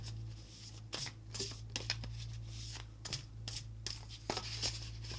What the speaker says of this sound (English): let me shuffle one more time